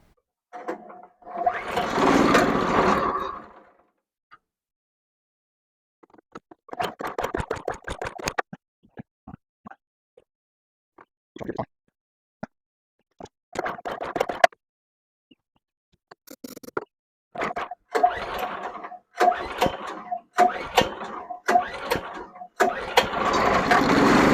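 A new sawmill's stuck small gas engine sputters on ether, bursting into rough running in short choppy spurts separated by silent pauses, then firing more steadily toward the end, close and fairly loud.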